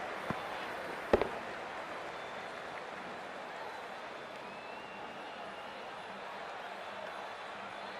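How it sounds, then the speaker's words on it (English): A crowd roars in a cricket stadium during a T20 World Cup Super 8 match between Pakistan and Sri Lanka at Pallekele, a broad sustained wash of cheering with a couple of sharp bangs early on. "It's almost palpable, the excitement emanating from this crowd at the moment."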